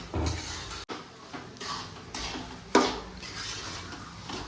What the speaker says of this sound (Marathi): सध्याला चांगला रवा भाजून घेऊ राहिली.